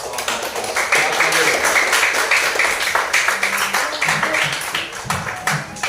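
A classroom of students claps for a group, a dense burst of applause lasting several seconds with a voice speaking over it.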